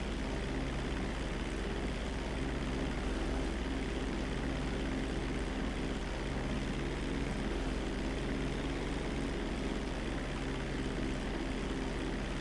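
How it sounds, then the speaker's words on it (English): Airplane engine in GTA V during takeoff, a loud, constant propeller drone with a steady throbbing hum that holds unbroken throughout with no voices. "Hold the throttle all the way down to pick up speed, and pull back on the stick to take off."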